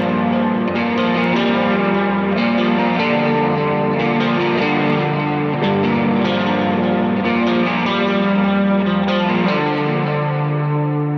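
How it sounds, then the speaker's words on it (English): Electric guitar lead with a subtle chorus pedal, dotted-eighth delay and reverb, a dense shimmering wash of repeating notes held at an even loud level throughout, with no talking. "So I have a chorus pedal on in this one as well"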